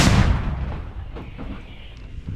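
A single loud, booming artillery shot opens, followed by a long rumbling echo that fades out.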